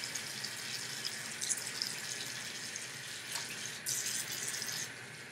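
A running tap splashes steadily over hands being washed and rinsed at a sink, a continuous close hiss of water with brief swells as the hands move under the stream.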